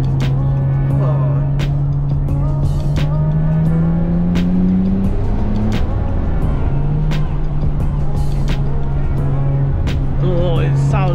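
A JDM sports car, likely a Skyline 34, heard from the cabin while driving: a loud continuous engine drone that climbs in pitch, dips on a shift and rises again, with road roar and occasional clicks, and talk mixed in.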